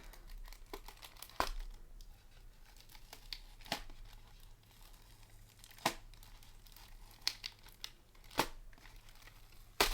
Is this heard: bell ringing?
no